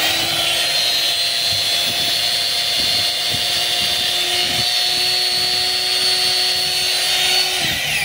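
A DeWalt DW810 4-inch angle grinder runs slowly with its cover off, giving a steady loud motor whine with rough, sputtering undertones, close and continuous throughout.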